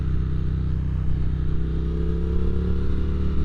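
A motorcycle engine runs steadily while the bike is ridden on a chilly day, a close, loud, even drone with rough mechanical clatter and no change in pitch.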